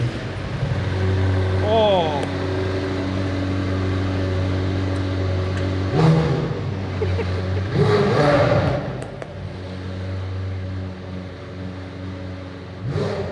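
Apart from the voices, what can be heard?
McLaren sports car engine starting and revving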